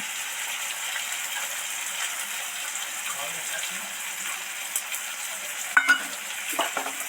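Potatoes, tomatoes and ginger frying in a pan, a continuous close sizzle, then a few sharp clinks and scrapes as the mixture is stirred toward the end.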